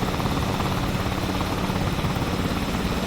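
A Cowansim 222B helicopter flies at high speed in a flight simulator game, giving a steady, loud, dense rotor and engine roar with a faint pulsing beat that continues unbroken throughout.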